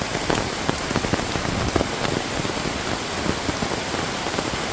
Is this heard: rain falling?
yes